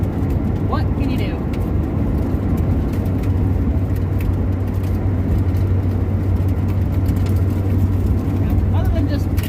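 Car being driven, a steady low engine hum and road noise inside the cabin, continuous and fairly loud, with someone talking over it.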